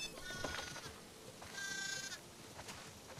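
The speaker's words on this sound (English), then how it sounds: "Listen up, sheep." Sheep bleat in The Last of Us Part 2 while being herded toward a barn in a snowy farm setting, with two or three wavering bleats over a quiet game backdrop.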